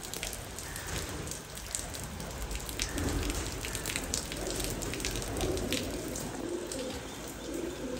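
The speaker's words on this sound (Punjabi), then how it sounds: "ਬਾਹਰ ਬਾਰਿਸ਼ ਲੱਗੀ" Steady rain patters on a surface outdoors at a pigeon breeding loft, with soft cooing from pigeons mixed into the continuous wash of drops.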